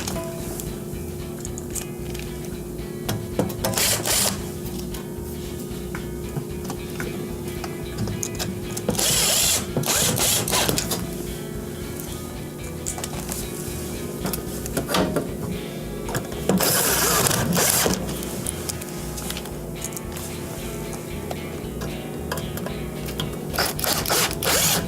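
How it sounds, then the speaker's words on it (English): Screws are driven in with a power tool to re-secure the dual speed blower fan of a Whirlpool oven during a repair. Several whirring driver bursts run over steady mechanical background hum, with brief ratcheting clicks and no talking. "And we'll re-secure it with the 4 1/4-inch screws."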